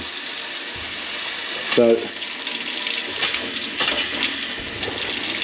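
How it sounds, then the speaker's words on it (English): Hot water runs steadily from a tap in a house basement after a plastic pipe fix, a constant hissing splash with a brief spoken word partway through. "There we go, hot water's on."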